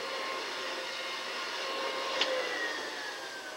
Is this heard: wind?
no